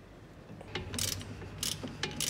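A wrench loosens the nut on the rear shock absorber of a 2005-2012 Chevrolet Optra, giving several quiet ratcheting clicks and metallic bursts close by, in an uneven rhythm with no talk.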